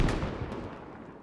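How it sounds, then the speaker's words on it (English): Grenades explode in a Squad firefight set in the streets of Fallujah, a dense, rumbling blast at the start that rolls on and fades over about a second. "Grenades going off."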